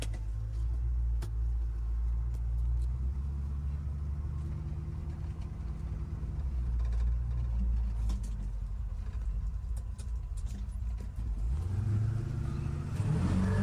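A restored 1949 Chevy 3100 pickup with a 350 V8 drones steadily as it drives, heard from the cab as a deep continuous engine rumble that swells as it accelerates toward the end.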